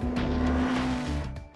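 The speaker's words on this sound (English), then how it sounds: "The ZX-14 Ninja, the king of the Kawasaki motorcycle line." A Kawasaki ZX-14 Ninja motorcycle engine drones close by, a steady pitched tone that holds, then fades and drops away near the end.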